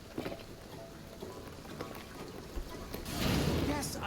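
Rain in the video game Shadow of the Tomb Raider, a faint steady hiss of falling water that swells louder toward the end, with no talk over it.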